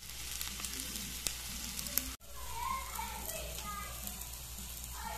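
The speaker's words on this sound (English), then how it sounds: "I put the tomatoes on top because I like to fry up the tomatoes a little bit." Tomatoes frying on top of ham in a pan give a steady, close crackling sizzle, with a brief interruption partway through and faint voices underneath.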